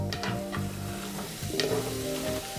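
Onions frying in a few tablespoons of avocado oil give a steady close sizzle with occasional stirring scrapes and clinks, and no one speaks.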